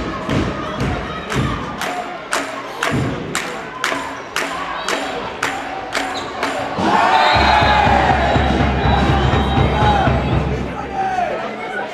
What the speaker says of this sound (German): Und das Publikum in Wismar geht mit, unterstützt